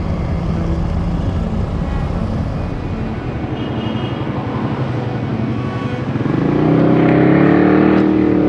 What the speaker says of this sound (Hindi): finally first time ride my bike Vietnam में